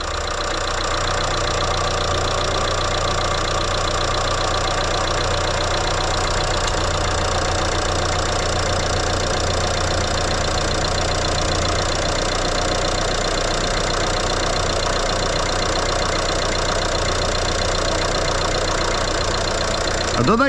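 A car engine with faulty fuel injectors idles steadily and roughly nearby, with a low uneven knock running underneath for the whole stretch.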